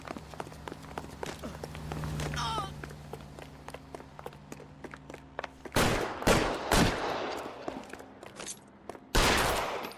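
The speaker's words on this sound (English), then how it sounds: "I have to shoot the guy" Scattered gunshots in the L.A. Noire video game, several sharp loud cracks in the second half after a quieter stretch of footsteps and background hum, fairly close.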